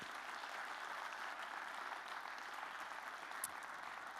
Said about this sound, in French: un dernier applaudissement pour saluer votre invité